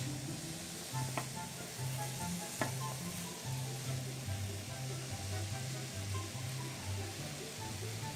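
Ingredients sautéing in a frying pan with a loud, steady sizzle and a couple of brief utensil taps, while a person talks over the cooking.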